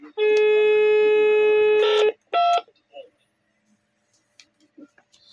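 A telephone dials a number, opening with a long steady tone followed by a short burst of dial beeps, then near silence with faint scattered clicks.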